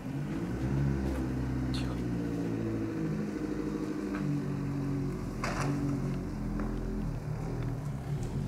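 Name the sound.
vehicle driving toward the camera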